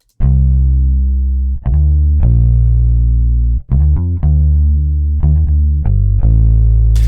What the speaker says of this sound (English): it creates almost like a phasing effect, but also at the same time adds a bit more distortion